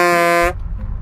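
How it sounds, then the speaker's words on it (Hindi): A sustained, loud horn-like tone with strong harmonics blares for about half a second and then cuts off, leaving low rumbling noise; the vehicle is stuck in traffic. "हॉर्न बजाना जरा"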